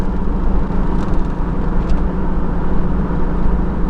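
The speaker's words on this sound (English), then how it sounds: "Everything in this freaking car vibrates, I swear." Interior of a car while driving, a constant low rumble and road drone with the cabin buzzing and vibrating, steady and fairly loud with no speech.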